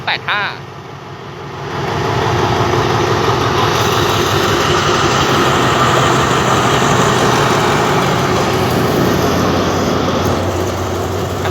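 An Alstom diesel locomotive, No. 4150, hauls express parcel freight train 985 (Bangkok–Sungai Kolok) out of Bang Sue Junction; a loud, steady, close engine roar swells in after a brief quieter start and holds throughout.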